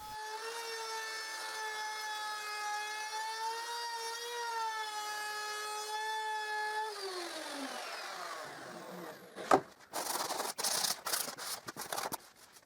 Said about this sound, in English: And then I route it again, with the fence against the plank edge.